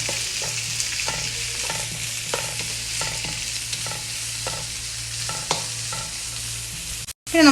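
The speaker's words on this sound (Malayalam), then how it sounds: "ഏകദേശം നമ്മുടെ ഗോൾഡൻ ബ്രൗൺ കളർ ആവുന്നത് വരെ നമ്മൾ ഈ ഉള്ളിയെ വഴറ്റിയെടുക്കുക." Onions sauté in a pan for a traditional Kerala prawn roast, a steady bright sizzle punctuated by regular scraping strokes of a spatula, close and unbroken with no voices, ending in a short clatter.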